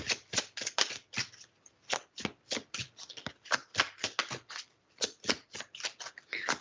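Tarot cards being shuffled by hand in rapid, crisp riffling bursts, close and fairly quiet, repeating steadily with short gaps and no talking.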